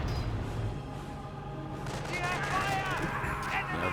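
Gunfire crackles in a Company of Heroes 1 tank battle, scattered shots and explosions mixed into dense game noise, with a commentator talking throughout.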